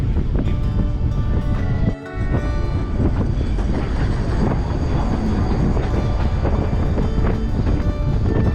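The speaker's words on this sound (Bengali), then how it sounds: "আর একটা ট্রাম আসছে ওদিক থেকে।" A Great Orme Tramway tram approaches on the hillside above Llandudno, North Wales, as a steady, loud rolling rumble with a brief dip partway through. Strong wind buffets the microphone throughout.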